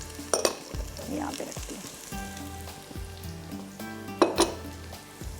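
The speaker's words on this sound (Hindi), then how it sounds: "थोड़ा सा प्याज ब्राउन हो रहा है" Onion frying with black pepper, cumin and bay leaf in a pot, a loud crackling sizzle with clanks and scrapes of stirring, while someone briefly speaks over it.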